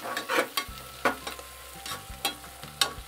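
Asafoetida sizzling in hot oil as it is stirred, with sharp scraping strokes of a spoon against the pan repeating over a low, steady frying hiss.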